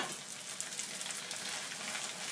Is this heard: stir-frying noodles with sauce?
yes